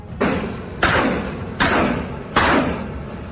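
An MLRS rocket barrage hitting positions, heard as four heavy, evenly spaced impacts, each a sharp broadband blast that decays into rumbling noise.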